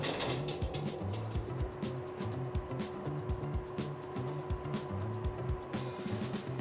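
A crate washing machine in a logistics facility processes a perforated plastic crate, giving a steady mechanical hum with a constant tone, overlaid by irregular clattering, knocking and spraying bursts throughout.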